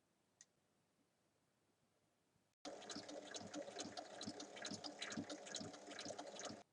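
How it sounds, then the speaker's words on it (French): A sewing machine stitching a zipper onto a bag runs steadily after a quiet start, a close, rapid mechanical whir with rhythmic needle clatter that continues to the end. "Je l'épingle et je vais la piquer."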